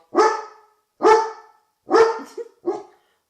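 A dog barks four times in quick, loud, close bursts, the last bark shorter and softer, with silence between them.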